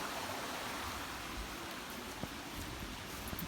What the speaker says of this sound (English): This is where all the rain is flowing from down the road here to this culvert